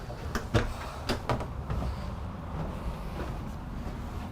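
A walk-through door into the garage of a 2020 Cimarron Freedom trailer is opened, giving a few sharp knocks and latch clicks close by over a low background hum.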